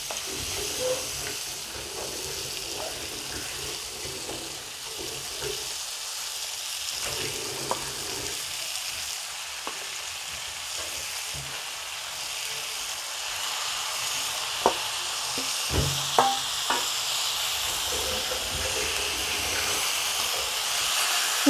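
Chicken pieces frying in a pan for a cumin chicken curry, a steady close sizzle and hiss running throughout with occasional small pops and crackles, no voices.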